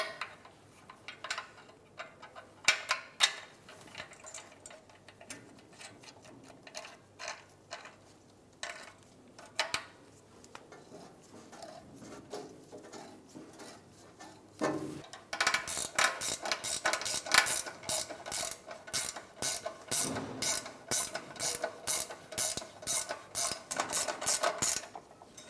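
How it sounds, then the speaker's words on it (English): A hand ratchet tightens exhaust nuts under a 2003-2008 Subaru Forester while a catalytic converter is installed. Sparse, quiet clicks come first, then a fast, even run of crisp, louder ratcheting clicks close by. "and tighten down the nut."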